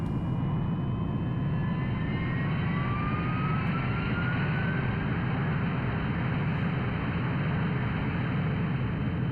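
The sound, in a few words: jet aircraft taking off in Ace Combat 3 video game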